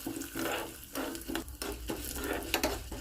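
Urad dal and fenugreek seeds fry in hot oil with a steady close sizzle, broken by a few soft stirring scrapes in the pan.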